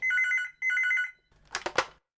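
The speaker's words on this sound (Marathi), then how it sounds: "फोन वाजतोय" Two bursts of a trilling telephone bell ring, then a brief clatter as the receiver is picked up.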